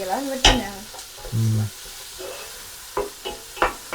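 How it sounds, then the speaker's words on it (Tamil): Onions sautéing in a pan for mutton curry, stirred with a few scraping strokes and soft sizzling, close and intermittent, with a brief voice sound early on. "நல்லா வெங்காயம் நல்லா வதங்கி வரணும் தானே"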